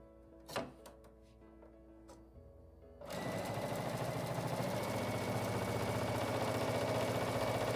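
A sewing machine stitches fabric for quilt lettering. After a few scattered clicks and handling sounds, a close, steady mechanical whir with rapid needle rhythm starts and runs continuously to the end.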